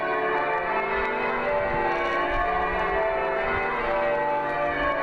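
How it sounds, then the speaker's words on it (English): Cathedral peal bells ring a full peal on New Year's Day, a dense continuous wash of overlapping tolls with no pause, steady and fairly loud throughout. "The Cathedral's peal bells"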